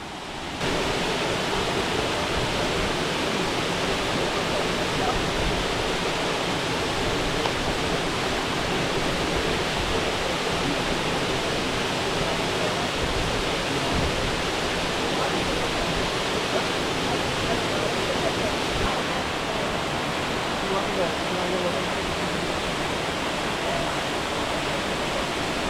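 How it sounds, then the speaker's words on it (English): Ramsey Cascades waterfall in the Great Smoky Mountains roars in a loud, unbroken wash of falling water, close and steady, with gusts of wind mixed in. "One last look at the Ramsey Cascades Falls, and we're heading back down."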